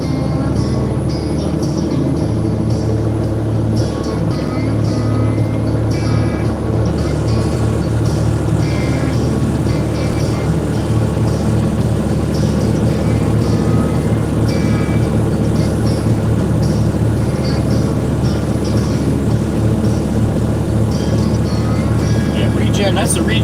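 A truck rumbles steadily while being driven through exhaust regeneration, a deep, continuous drone with a slightly rough edge, and someone talks over it throughout.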